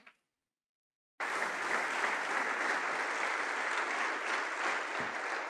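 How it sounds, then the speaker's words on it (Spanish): After a second of near silence, a church congregation bursts into strong, continuous applause, a dense, even roar of many clapping hands that holds steady at moderate loudness to the end. "Démosle una ofrenda fuerte de palmas al Señor."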